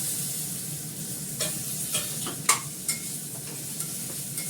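Ginger paste sizzles steadily in a hot pan, a constant hiss broken by several sharp scraping stirs of a spatula, close and moderately loud with no voices.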